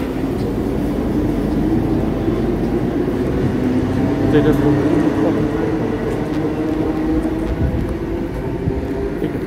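A train pulls into a Dutch railway station, arriving from Leeuwarden, with a steady low rumble and rolling rail noise that continues throughout, a faint squeal partway, and people talking nearby over it.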